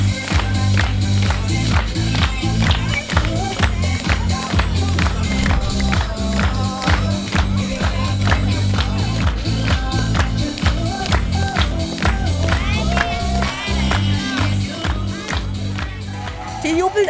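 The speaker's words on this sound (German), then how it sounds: "Die jubeln alle so." Crowd cheering and clapping along the route of the BR-Radltour 2019 cycling event in Lauf, Bavaria, a dense continuous roar of applause and rhythmic claps with voices throughout.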